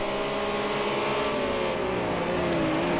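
A Renault RS 01 race car in Project Cars 2 runs hard with a loud, continuous engine whine that shifts pitch as it revs through a corner, with no voices over it.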